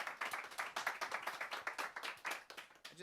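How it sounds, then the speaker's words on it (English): An audience at an oncology panel forum claps together in steady, fairly faint applause lasting a few seconds, with no voices over it. "So let's have a round of applause here for the panel."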